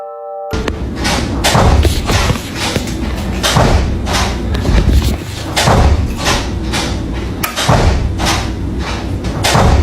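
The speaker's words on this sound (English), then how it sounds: "the noise of the door repeatedly opening and slamming shut" A door bangs shut again and again, loud heavy thuds in an irregular rapid series with a rattling, chaotic background.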